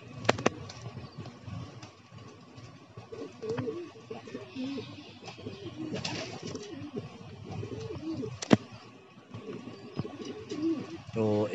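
Pigeons cooing softly in a rooftop loft on a hot, windy afternoon, low repeated coos scattered through steady breeze and rustling, with occasional chirps; someone talks over parts of it.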